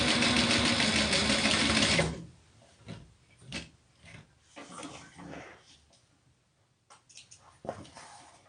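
A sewing machine stitches quilt panels together in a loud, steady run of close mechanical whirring for about two seconds, then stops, followed by quieter handling sounds and small clicks.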